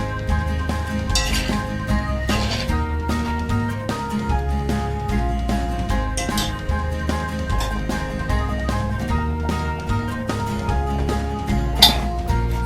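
A spoon scrapes and clinks against a Dutch oven while lamb shank curry with tomato puree is stirred, giving repeated metallic knocks and soft stirring over a low background hum.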